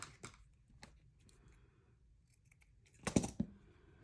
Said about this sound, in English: I'm just going to cut a smaller piece and do like that.